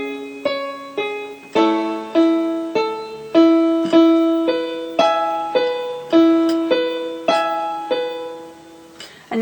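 Solo piano plays two bars of a song in an arrangement, slow and steady, with around fifteen separate chords struck at an even pace, each sustaining and fading under the next, close and clear with no voices.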